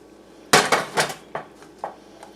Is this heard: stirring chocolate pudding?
yes